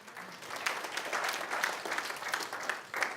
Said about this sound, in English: Give a round of applause to that guy